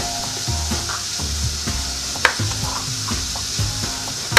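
Food sizzles and is stirred in a hot cast iron pan, a steady frying hiss broken by scraping strokes and an occasional sharp clink.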